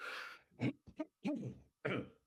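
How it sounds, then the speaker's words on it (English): Someone clears their throat close up in a few rough, separate bursts with short pauses between them. "I'm just going to clear my throat"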